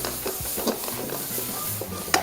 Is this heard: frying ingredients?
yes